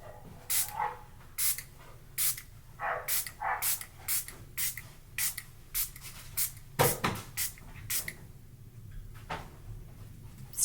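A handheld spray bottle spritzes about a dozen and a half short, sharp bursts in an uneven rhythm, close by and with no talking.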